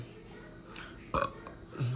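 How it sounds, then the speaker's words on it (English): A person burps once, a short faint gurgle in a quiet room, followed by a small low sound at the end. "the burp that I just burped right now"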